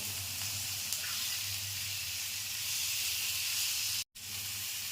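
Spiced potatoes sizzle steadily in a hot pan while being stirred for a Bengali sukno aloo dish, a dense close hiss broken by one brief silence near the end.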